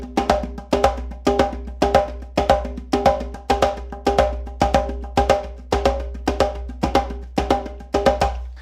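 Close, loud hand drum alone in a brisk 4/4 pattern, evenly spaced resonant low strikes with brighter accents repeating in a tight cycle.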